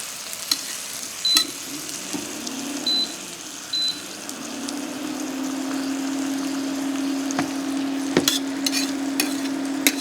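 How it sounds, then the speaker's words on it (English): Butter with crushed garlic and thyme melts in a pan beside a ribeye steak being basted, producing a close, steady sizzle that builds into a sustained fry, with a few sharp clicks and utensil taps and no talking. "we're actually going to go ahead and add a little butter to the pan"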